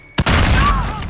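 A Claymore mine explodes in the Call of Duty: Modern Warfare video game: a sharp click is followed by one loud, close blast that rumbles and fades over about a second.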